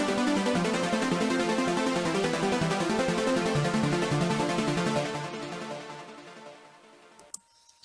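A rapid Eurobeat synth arpeggio from a trance preset pack in the Vital synthesizer runs through chord notes one after another in a fast, even pulse, then fades out into a short decaying tail and near silence.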